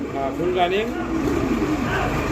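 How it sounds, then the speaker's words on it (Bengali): A pair of black nun pigeons coos softly in brief, low warbling notes, close by and partly under nearby voices and background noise. "এটা হচ্ছে আপনার নান কবুতরের একটা জোড়া ব্ল্যাক নান"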